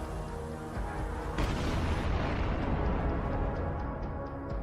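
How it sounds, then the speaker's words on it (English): A large blast from an FPV drone strike on a Russian gun vehicle rumbles loudly, a sustained roaring boom that swells after its onset and holds with no voices. "the explosion tore through the vehicle and the immediate area"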